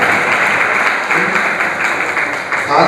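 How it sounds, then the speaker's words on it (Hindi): Audience applause in a hall during a religious discourse session, a steady dense wash of clapping from a crowd that holds evenly for a few seconds. "ताली क्यों नहीं बजा रहे हैं?"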